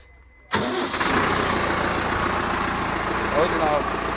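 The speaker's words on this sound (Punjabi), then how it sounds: "ਤੁਸੀਂ ਟਰੈਕਟਰ ਦਾ ਸਾਊਂਡ ਦੋਸਤੋ ਦੇਖ ਸਕਦੇ ਹੋ ਕਿਆ ਪਿਆਰਾ ਸਾਊਂਡ ਹੈ ਜੀ" A Turkish-made TUMOSAN 8185 tractor engine catches abruptly after a quiet moment and settles into a loud, steady diesel idle close by, a rough rumble that continues throughout.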